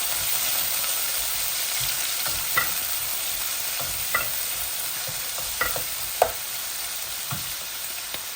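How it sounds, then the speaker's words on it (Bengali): Garlic hits browned onions in a hot pan, giving a constant close sizzle broken by a few sharp scrapes and taps of stirring. "আমার পেঁয়াজটা লাল হয়ে গেছে, রসুনটা আমি এখন পেঁয়াজ দিয়ে দিচ্ছি।"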